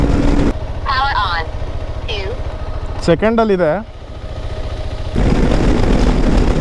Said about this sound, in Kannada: ಗಾಡಿ ಸೌಂಡ್ ಅಂತ ಒಳ್ಳೆ ರೇಸ್ ಬೈಕ್ ಸೌಂಡ್ ಬಂದಂಗೆ ಬರುತ್ತೆ ನನಗೆ